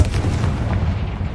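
A Confringo fire spell detonates in Hogwarts Legacy, a loud, deep booming blast that rumbles steadily for over a second with no pause, close and heavy, with no voices over it.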